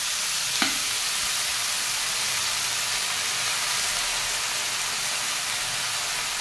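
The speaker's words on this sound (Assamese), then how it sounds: "এতিয়া মই ভালকৈ লৰাই চৰাই ভাজি ল'ম।" Khutura greens and spices frying in a kadai give a continuous close sizzle and hiss, with one sharp clink of a utensil against the pan near the start and no voices.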